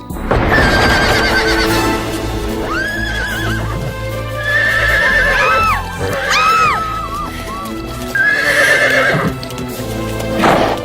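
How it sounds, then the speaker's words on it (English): A horse neighs and whinnies repeatedly, loud and close, over steady clip-clopping hooves in a 1999 film, with several shrill whinnies spread through the stretch and a busy background. "What is this strange beast? I think it's called a horse."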